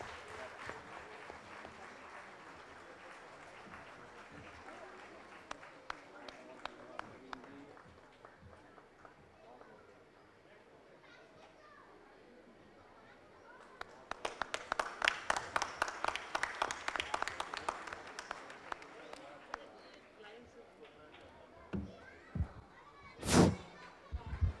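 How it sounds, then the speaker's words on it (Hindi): Applause breaks out at a Shikhar Sammelan gathering as ABRKS Bangalore honours ABRKS Delhi. Talk and murmur come first, then a burst of brisk, close clapping swells in the middle, followed by scattered thumps. "तालियों की आवाज़ रुकनी नहीं चाहिए"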